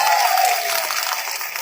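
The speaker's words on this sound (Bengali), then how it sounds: "হাসনাবাদ থানার জন্য, ভারপ্রাপ্ত অফিসারের জন্য একটা জোরদার হাততালি হোক।" A crowd at a public gathering claps for the officer in charge of Hasnabad police station, a dense burst of applause at steady, fairly loud volume throughout, with a brief voice over the start.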